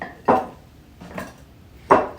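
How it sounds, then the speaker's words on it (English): Three knife chops on an onion against a cutting board, spaced about a second apart in a home kitchen. "now I'm going to chop up the onion"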